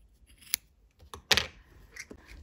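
Scissors snipping excess yarn close up: a few sharp, quiet clicks and one louder cut, spaced unevenly over a near-silent background.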